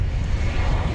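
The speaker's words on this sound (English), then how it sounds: "Looks like an American Eagle plane. Sounds like an American Eagle plane. It's an Embraer 175 coming at us" An American Eagle Embraer 175 jet airliner approaching DFW Airport, a steady loud engine roar that fills the whole second without letting up, close and dominant.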